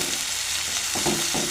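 Ground spices crackle and fry in hot oil with onion and garlic-ginger paste, a close, steady sizzle broken near the end by a few quick scrapes of a spoon.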